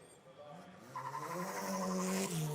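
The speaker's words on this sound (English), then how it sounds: "that's on board with Wehrlein, pulls another gear, then knocks it down again, just getting a feel for the box, and a final warm-up then at the brakes up towards the line." A race car on a warm-up run at the 2014 Race of Champions, engine note rising through a gear change then dropping as it brakes, fairly close and steady throughout.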